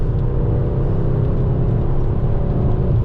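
2007 Ford Focus ST MK2 with a Stage 1 tune and five-cylinder engine, revving under load with a loud, steady low rumble and whir heard from inside the car, no talk.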